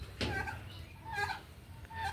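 Faint turkeys with colds call in short gobbling bursts from a little distance, with quiet farmyard background.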